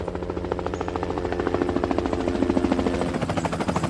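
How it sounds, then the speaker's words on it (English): Helicopter rotor noise pulses in a steady, rapid chop that grows gradually louder as it approaches, filling the scene without voices. "PJ, chopper approaching."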